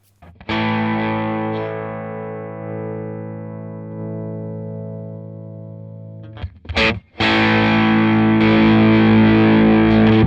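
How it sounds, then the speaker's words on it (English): Electric guitar through a Crazy Tube Circuits Splash MK 3 reverb pedal with a gained-up amp, a long sustained chord ringing out in a reverb tail, then a short pause and a new strummed chord. "give the amp a little bit more welly, get some gain, and show what the reverb sounds like with that"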